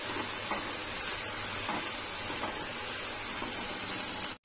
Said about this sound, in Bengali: তো দেখো আমার অনেকটা ফ্রাই হয়ে গেছে